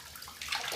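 A bathtub fills from a running tap, water splashing softly at first and then growing louder and brighter in the second half, close by and alone.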